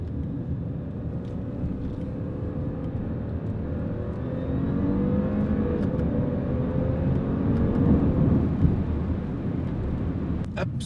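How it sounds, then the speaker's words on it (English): An Audi A7's engine accelerates as a low, muffled rumble heard from inside the cabin, swelling gradually over several seconds with road noise and a few faint clicks, no speech. "so you can hear just the engine"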